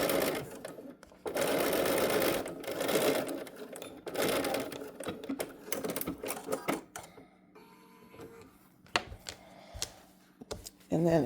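A sewing machine stitches a fabric-and-lining seam in bursts, running fast and loud for several seconds at a time and then pausing, with a few quieter runs and handling noises toward the end.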